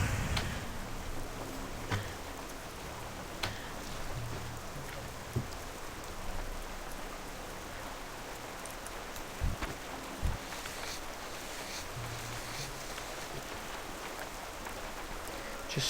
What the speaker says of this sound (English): Some nice chillax questing in the rain.